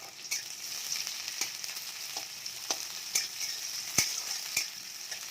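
Chopped onion frying in hot oil with panch phoron for a bottle gourd greens dish: a soft steady sizzle with intermittent stirring scrapes and ticks, no one speaking.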